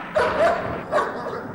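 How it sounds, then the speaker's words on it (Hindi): Dogs barking nearby, two short bursts of yapping barks close together, loud and clear with no talk over them. "अरे कुत्ते क्यों भौंक रहे हैं?"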